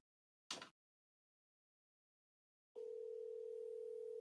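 A telephone line tone sounds steady and loud from mid-clip on, after a brief click and a long silence, while a cold call is placed.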